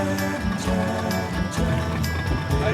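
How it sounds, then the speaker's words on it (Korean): A small boat serving as a school boat off Kamea Island, Fiji: engine drone with water rushing and splashing against the hull, steady and fairly loud throughout. "이른 아침부터 배를 탑니다."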